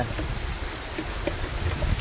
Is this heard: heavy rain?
yes